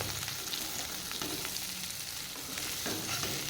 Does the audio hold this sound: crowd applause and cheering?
no